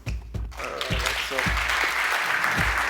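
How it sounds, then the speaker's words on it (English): An audience at a SEP Talks event breaks into loud, full applause for an award winner. A voice is briefly heard at the start. "Give another applause"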